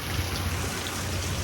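Heavy rain falls during a windstorm, a dense, even hiss of drops on surfaces with a low rumbling undertone, constant throughout with no voices.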